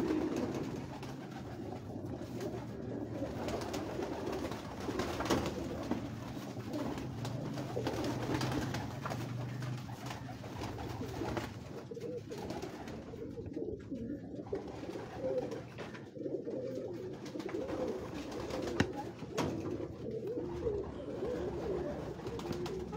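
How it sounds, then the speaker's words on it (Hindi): Pigeons cooing on a rooftop in Lahore, with soft, steady, low cooing that keeps going through the whole stretch over a faint background hum and no talking. "ये है जी जुरे कबूतर"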